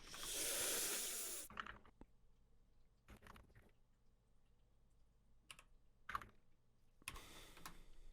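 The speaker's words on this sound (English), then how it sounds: "I'm typing out the full fucking word." Someone types on a computer keyboard in short bursts of quick, faint clicks separated by pauses, close to the microphone in a quiet room, following a loud rustling burst at the start.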